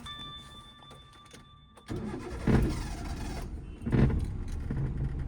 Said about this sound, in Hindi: आप पूरा क्लच रिलीज कर दे रही, इसीलिए तो कार का इंजन बुझ रहा है।